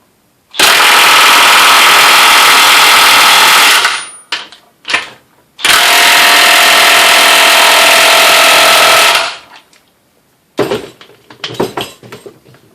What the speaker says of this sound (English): do about 5 seconds on each bolt with the Dewalt